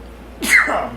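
A single sharp human sneeze, close and loud, with a brief inhale just before it and no talking.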